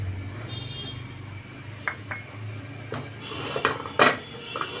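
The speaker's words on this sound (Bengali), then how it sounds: "আমি এখন একটা চিনি দিয়ে ক্যারামেল তৈরি করব। চিনিটা দিয়ে দিলাম।" Sugar tipped into a frying pan to start caramel, giving a few short metallic clinks and scrapes of spoon and pan over a low background hum, with a louder cluster of knocks near the end.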